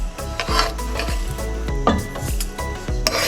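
Ingredients for Vietnamese pho clatter and scrape in a pan under a soft sizzle. Utensils knock against the metal in irregular strikes close to the listener.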